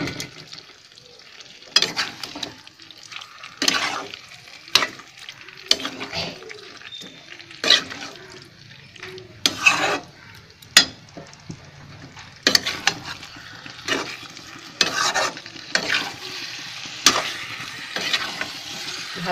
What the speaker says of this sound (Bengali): ভালো করে ধনে পাতাটাকে মাংসের সাথে এইভাবে মিক্স করতে হবে।